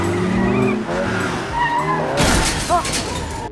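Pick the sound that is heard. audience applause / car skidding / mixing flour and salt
car skidding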